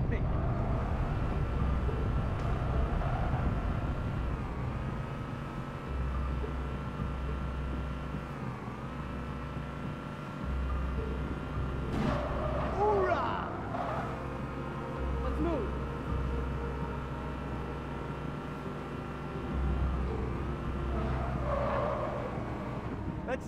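A vehicle drives in Halo 3, its engine droning steadily through the whole stretch, with shifting pitch and a few brief bumps and skids, and voices talking over the motor.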